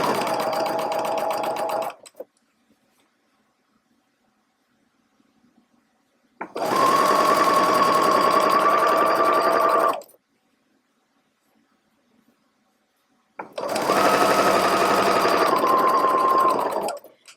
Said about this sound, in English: Now I'm going to go ahead and sew the other end too